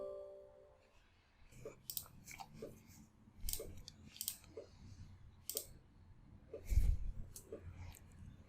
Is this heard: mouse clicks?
yes